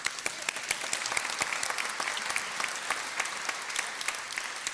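A gala audience at the NYSID Gala 2024 lifetime achievement award applauds. Crisp, fairly sparse hand claps rattle on steadily, moderately close, with no talk over them.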